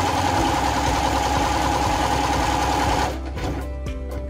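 A Lumina Gala sewing machine runs steadily while stitching a zigzag seam, a loud, close, even mechanical whir for about three seconds before the motor slows and quiets.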